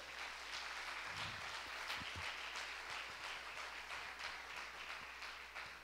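A church congregation applauds for the Lord during a worship service, a fairly faint but continuous patter of many hands clapping over several seconds, with a few low thumps underneath.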